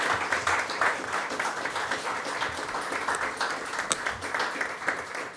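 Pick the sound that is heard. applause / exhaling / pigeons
applause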